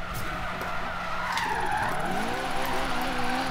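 A car drifts through a drift zone in Forza Horizon 3, its tires squealing and skidding in a long continuous screech over a steady engine hum, with pitch sweeping as the slide shifts.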